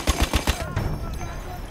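An M1917 machine gun in the video game Battlefield 1 fires a quick burst of about four loud rounds, then a ringing, echoing tail fades out.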